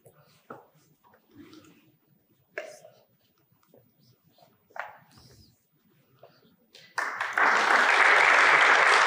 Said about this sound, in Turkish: Yine alkışlarla, oraya da alkış.